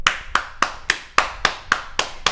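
A single pair of hands claps about eight times at an even, moderately quick pace, each clap sharp and close with no voices.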